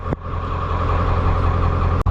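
A 1996 Ford F250 Powerstroke diesel runs steadily up close, its loud, even engine drone holding a low throb through two seconds, broken only by two brief dips.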